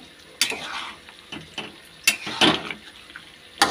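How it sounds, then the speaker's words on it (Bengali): Hot water hits potatoes frying in a pan, with close bursts of hissing and bubbling, intermittent stirring scrapes and clinks, and a steady sizzle underneath. "গরম জল দিয়েছি"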